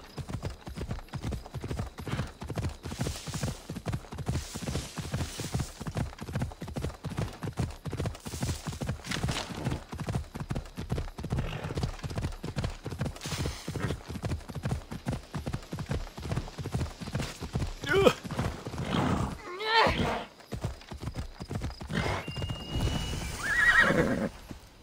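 Horse in Assassin's Creed Odyssey, spawned in water, with steady rapid clip-clop hoofbeats close and loud for most of the stretch and a neigh near the end, game sounds alone without talk.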